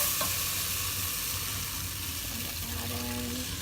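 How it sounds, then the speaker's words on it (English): Half and half slowly poured into a hot pan while stirring, producing a steady loud sizzle and bubbling hiss with faint stirring scrapes throughout. "slowly add in my half and half."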